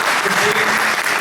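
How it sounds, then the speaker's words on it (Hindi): An audience applauds loudly and steadily to welcome a speaker at a Holi poetry event, dense clapping filling the short moment. "मैं चाहूंगा जोरदार तालियां से आप स्वागत करें"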